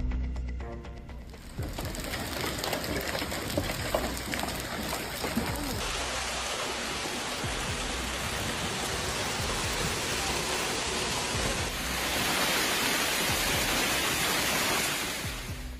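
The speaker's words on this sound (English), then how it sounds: "As the heavy rain and thunderstorm hit the area, a storm brought intense hail to the city of Worms" Heavy rain and hail pour down during a thunderstorm in Worms, Germany, in a dense, steady roar that swells louder near the end, with no clear voices.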